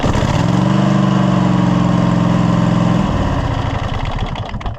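A zero turn lawn mower engine runs loud and close, a rough steady rumble that drops off after a few seconds and trails away unevenly.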